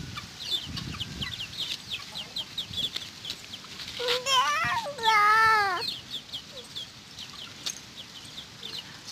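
Chicks of the Peru Vedai (Karungan Potti) chicken breed chirp in repeated rapid peeps on a farm, with a louder, wavering call rising in the middle over a steady background of cheeping.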